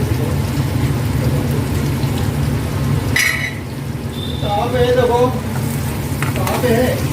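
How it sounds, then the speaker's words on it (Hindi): Onions sizzle and crackle steadily in a hot pan, with a brief metallic clink and some faint voices in the background. "तो अभी देखो प्याज भून रही है इसमें"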